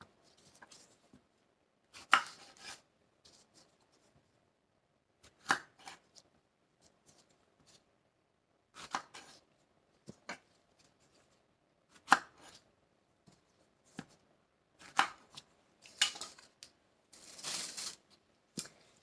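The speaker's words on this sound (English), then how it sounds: "Now we're going to start on the jalapenos" Knife chopping fresh jalapenos on a cutting board: scattered, separate sharp cuts in irregular bursts with quiet gaps between, close and fairly clear, with no talking.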